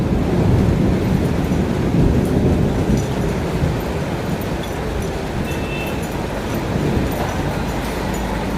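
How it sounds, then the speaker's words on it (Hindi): Loud, heavy rain roars continuously with a deep rumbling wash, dense and close, with no voices. "तेज तेज बारिश हो रही है।"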